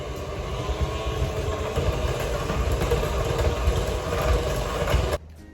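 Electric hand mixer beating mascarpone cheese into a tiramisu mixture, a steady loud whirring drone that runs continuously and then cuts off abruptly near the end.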